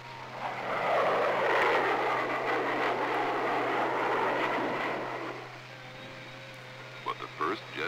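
A jet aircraft, an FH-1 Phantom, roars as it lands on an aircraft carrier, a loud sustained engine rush that fades after about five seconds, followed by a few brief clanks and thuds, with a steady low hum underneath.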